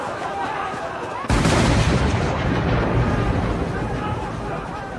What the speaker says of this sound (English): a crowd of people are running and panicking while an explosion happens in the background